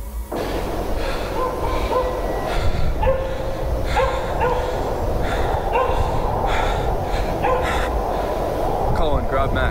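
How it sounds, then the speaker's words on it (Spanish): Dog barking in the distance on a rural Midwest property, sharp repeated barks scattered through a steady loud background, with people talking over it. "El granjero, Avery Jones, sintió los ladridos de su perro."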